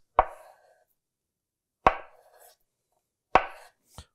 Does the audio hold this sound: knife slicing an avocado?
yes